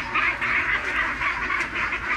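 Ducks quack steadily and loudly at close range while being caught and handled for a new pen, a continuous overlapping chorus of calls with no talk.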